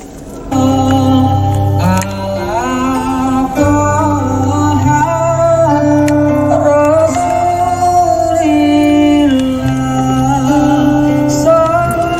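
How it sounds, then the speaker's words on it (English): Music playing through the Bose audio system in a 2024 Chery Omoda E5, loud and full with sustained tones and a steady bass line, heard inside the car and carrying on with no talking. "Let's test out the Bose sound quality."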